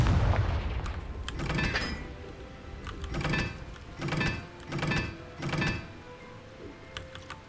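Confringo blasting spells go off in a Harry Potter video game, a run of heavy thudding explosions landing roughly once a second, each a loud boomy burst that decays quickly, with quieter effects in between.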